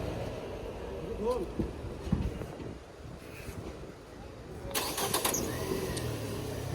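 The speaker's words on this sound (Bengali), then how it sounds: "জাপানি ইঞ্জিন ইন্ডিয়ান বডি এটার চেক করছে সজীবে" A Japanese-engined car runs steadily at close range at a used car market in Riyadh, with voices talking over it and a brief louder rev or burst of noise partway through.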